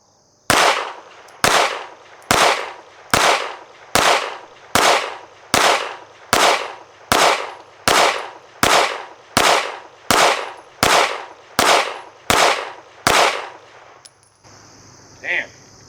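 A Strike Industries Mass Driver fires a magazine of CCI Blazer rounds: fifteen loud, close, evenly spaced shots roughly one per second, each with a short ringing tail, then a brief metallic sound after the last.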